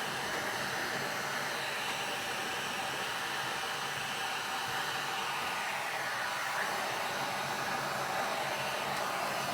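A hair dryer blows steadily on a wet t-shirt, a continuous close whooshing hiss with no breaks.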